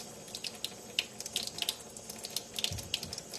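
Water from a kitchen tap runs while homemade butter is rinsed, a soft, quiet splashing stream with small irregular spatters and no voices.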